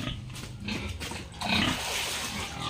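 Pigs grunt and oink inside a pigpen at a piggery, a steady muffled rumble of snorts with a louder squeal partway through, fairly close.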